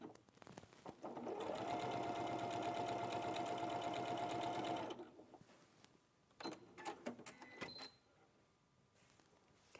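Sewing machine stitching placement lines on a quilt, a close, fast rattling run lasting a few seconds that stops abruptly and is followed by fabric handling and scattered clicks.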